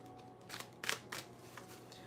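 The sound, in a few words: shuffling tarot cards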